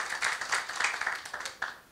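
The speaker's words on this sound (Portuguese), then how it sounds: "Eu peço uma salva de palmas então aqui para o Marcelo, pela exposição." A seminar audience on Brazil's political system gives brief applause, with scattered claps fading out over about two seconds.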